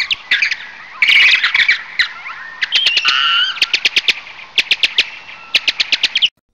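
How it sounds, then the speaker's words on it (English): A cartoon bird in a 3D kids' animation squawks and chirps in rapid, loud, close bursts, with quick repeated staccato calls and a flurry of shrill cries running for several seconds with no talk. "What did you tell that bird now?"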